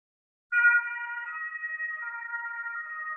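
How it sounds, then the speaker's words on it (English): An ambulance siren in Leipzig starts abruptly and holds a steady, loud, close tonal wail throughout, alone without talk. "excuse the ambulance, we're in Leipzig at the moment"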